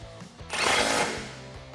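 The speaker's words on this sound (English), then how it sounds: "Grab a 13mm socket and tighten this down" Bolt tightened with a 13mm socket on Jeep Wrangler JL running boards, a brief burst of ratcheting and mechanical rasping in the middle of a quiet stretch.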